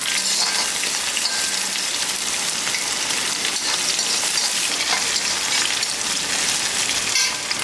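Whole small shallots, a handful, frying in hot oil in a pan for a fish-style curry, a dense, loud, continuous crackling sizzle with faint stirring, close and unbroken throughout.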